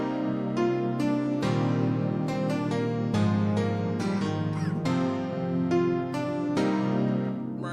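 Full synth pad layer built in FL Studio, with dense, warm sustained chords changing every second or so over a steady low bass, loud and continuous with no voice over it.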